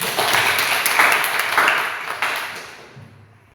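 A school class applauds during a tenth-grade Christian religion lesson, a burst of many hands clapping together that gradually thins and fades out toward the end.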